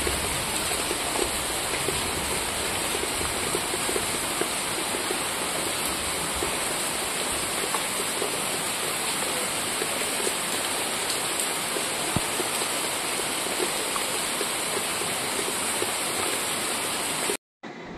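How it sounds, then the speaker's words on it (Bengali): Heavy rain pours down outdoors in a dense, continuous hiss of drops on surfaces, loud and unbroken, ending abruptly in a brief cut near the end. "এখানে অনেক বৃষ্টি পড়ছে"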